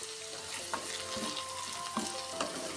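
Potato mezhukkupuratti with salt and turmeric, potatoes, onion and green chilli, stirred in a hot pan: a continuous close sizzle broken by a few sharp spoon scrapes and knocks against the pan.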